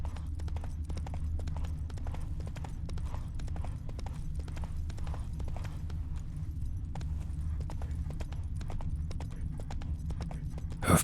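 Roach, the horse in the video game The Witcher 3, gallops steadily, hooves clip-clopping in a fast continuous rhythm over a low rumbling bed of movement, close and clear throughout with no talk.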